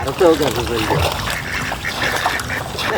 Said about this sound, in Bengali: হাঁসগুলো কত সুন্দর খেলা করতেছে নদীর মানে বিলের জলে